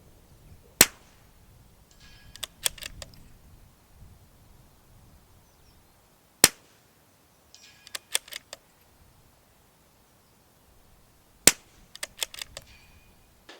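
Three sharp, close shots from a CZ 457 .22 rimfire rifle in an MDT XRS chassis, spaced about five seconds apart, each followed by quick metallic clicks of the bolt being cycled, with no talking.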